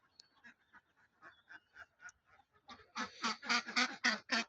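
Ducks on a duck farm quack in quick repeated calls, softer and sparse at first, then a louder, denser burst of several birds calling together close by.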